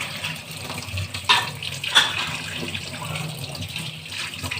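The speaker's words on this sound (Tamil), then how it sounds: "நல்லா தண்ணி ஊற்றி நல்லா கழுவிக்கலாம்." Curry leaves and coriander leaves being washed in running water in a kitchen, a continuous close splashing and trickling with a few sharper sloshes, no voices.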